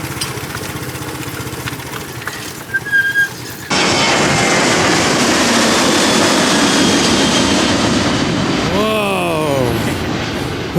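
An aeroplane takes off from the airport beside Mai Khao Beach in Phuket, arriving abruptly as a loud, close jet roar that holds for several seconds and then pitches down as it passes, after a quieter stretch of beach ambience and voices.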